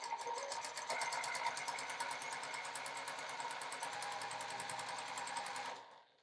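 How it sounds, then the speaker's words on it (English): A sewing machine top stitches fabric along a folded edge, its rapid, even needle chatter running loud and steady for several seconds before stopping. "now top stitch along the folded edge"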